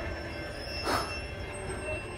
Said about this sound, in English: What is a train passing by?